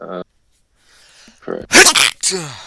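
A single loud, explosive sneeze bursts out amid casual voices during a live league game broadcast, preceded by brief talk and a short intake of breath.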